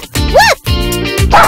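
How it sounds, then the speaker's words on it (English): A cartoon farm dog gives two or three loud, close, bouncy barks in quick succession in a children's farm song. "The dog says, woof, woof!"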